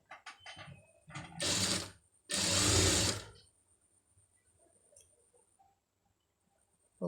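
A sewing machine runs stitches along a sleeve made from saree cloth, in two loud sustained bursts of about a second each, with lighter clicks and short mechanical rattles before and between them and quiet pauses after.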